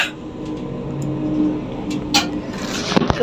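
Bus engine idling and revving, a steady mid-level hum with faint rattles and a few sharp clicks near the end.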